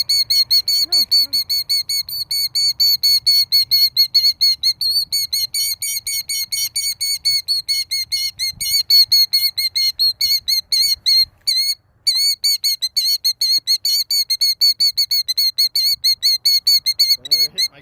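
A killdeer protecting its eggs gives loud, rapid, high-pitched repeated calls in a near-continuous stream close by, with a brief pause partway through.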